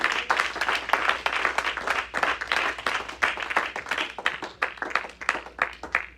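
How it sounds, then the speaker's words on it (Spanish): Church congregation giving loud, sustained applause to the Lord, dense rhythmic clapping filling the room throughout. "Le doy un aplauso fuerte al Señor"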